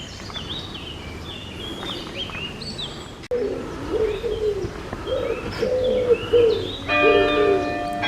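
Low, repeated cooing of pigeons in an echoing space inside a church at Rocamadour, with a few high bird chirps and a faint ringing tone toward the end.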